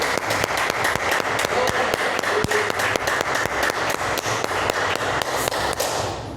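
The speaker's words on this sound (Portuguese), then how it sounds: "Vamos aplaudir o Senhor essa mensagem?" A church congregation claps together in a service, a dense run of sharp, fairly regular hand claps close by and steady for several seconds before tapering off.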